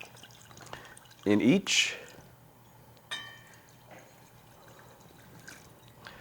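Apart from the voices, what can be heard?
sake being poured into a pan for yakitori sauce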